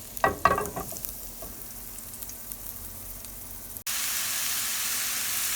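Habanero peppers frying in hot oil, a brief stirring clatter at first, then a loud, steady sizzling hiss that swells suddenly partway through.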